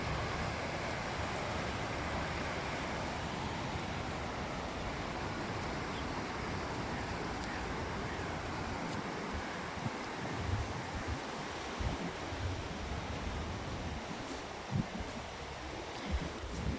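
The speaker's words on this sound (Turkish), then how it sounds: "Şu karşıda da sekileme yapmışlar. Ne güzel şelale gibi aşağıya iniyor." Stream water cascades down a terraced weir on the Hacı Ahmet creek in Balçova, a steady broadband rushing roar that runs unbroken throughout, with some wind or handling bumps in the later seconds.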